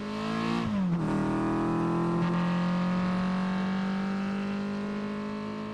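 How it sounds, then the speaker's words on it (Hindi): A cartoon car pulling away, its engine rising into a loud, steady drone that holds its pitch and carries on for several seconds, close and alone with no voices. "गुल्ली साथ चलने के लिए तैयार हो जाता है और वे दोनों गाड़ी में बैठकर आयरन मैन की मदद करने के लिए चल देते हैं।"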